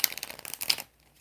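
Tarot cards are shuffled in a quick burst of soft riffling flicks lasting under a second, then the sound stops.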